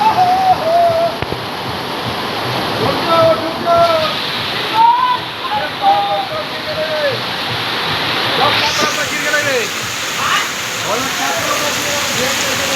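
Heavy rain pours outside a room abroad, a dense, continuous roar of water like a downpour onto surfaces and overflowing drains, with a voice speaking faintly over it.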